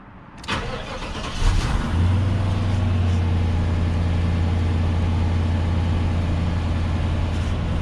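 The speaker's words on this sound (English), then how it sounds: "Start it up again to make sure everything works." An LT1 V8 in a 1994–95 Chevrolet Impala or Caprice cranks briefly, catches with a rising surge, then settles into a loud, steady idle with a low, even hum.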